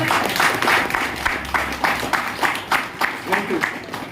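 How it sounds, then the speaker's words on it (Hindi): Audience applause at a celebration gathering in Gurgaon, a steady patter of clapping with rhythmic bursts throughout, heard alongside speech. "जबरदस्त तालियां"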